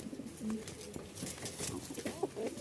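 A Jacobin pigeon, one of a restless pair, gives low, throaty coos in short repeated phrases, close by, over a faint hissing background.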